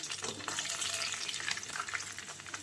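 Chicken frying in a pan, a steady broadband sizzle with light stirring running throughout at close range, no voices over it.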